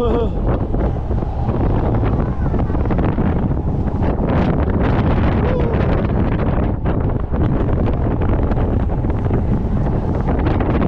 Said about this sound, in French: Il y a du vent là-haut.